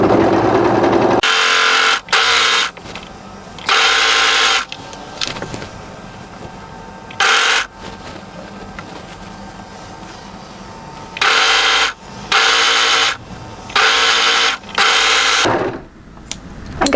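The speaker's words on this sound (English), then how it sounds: "And we'll just gently overlock that into place." An overlocker serging the seam of a sleeveless knit cardigan, running in loud, close, rapid stitching bursts of a second or two each, separated by quieter pauses with a faint motor hum.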